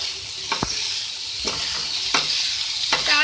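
Chopped green chilies and chili flakes being stirred into a sizzling vegetable samosa filling in a pan, a steady close frying hiss punctuated by four rhythmic scraping strokes of the spoon.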